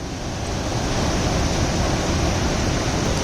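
Milky white mountain river water rushes near Pissu Top above Chandanwari on the Amarnath Yatra route from Pahalgam, a loud, continuous broadband roar close by, with no voices.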